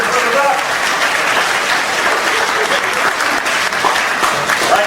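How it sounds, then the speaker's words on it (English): A studio audience claps steadily after a magic card trick on a talent radio show, dense sustained applause filling the room with no break. "Give him a nice round of applause, everybody."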